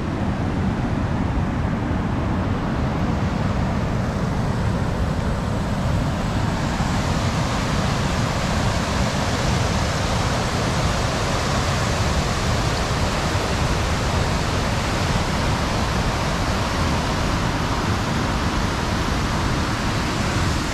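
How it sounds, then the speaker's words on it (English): Waterfall at Ohiopyle State Park in Pennsylvania, a constant broadband rush of falling water, loud and unbroken throughout with no voices. "So this is the waterfall area."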